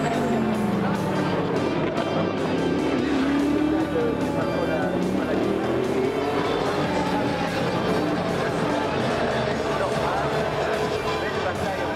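Race cars at the 24 Hours of Spa-Francorchamps, engines droning and swelling as they pass at a distance, a continuous rumble running beneath someone talking throughout.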